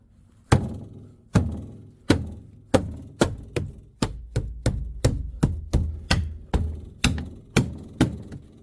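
Repeated thumps of a palm banging a Land Rover Discovery 2 rear interior door panel into its clips, about sixteen sharp, dull knocks at a quickening pace, close and alone.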